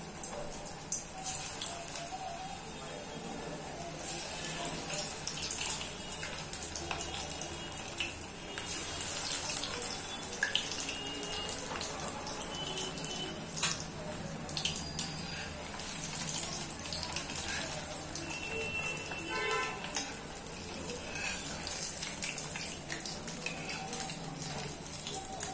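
Paneer spring snacks deep frying in oil in a kadhai, a steady, dense sizzle and crackle that runs without a break from start to finish at moderate loudness.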